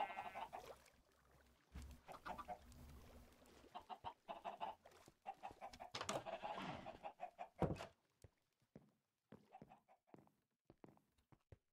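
Chickens clucking in the video game Minecraft, a busy cluster of overlapping clucks and squawks at moderate distance, thinning out into scattered sharp clicks toward the end.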